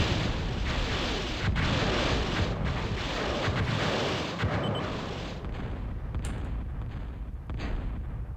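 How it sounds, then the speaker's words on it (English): Rapid-firing homing missiles in a battle video game launch and burst in a dense, continuous barrage of booming, crackling impacts that roll on without pause at a strong, steady level. "to bombard his opponents from a long range with these rapid firing homing missiles"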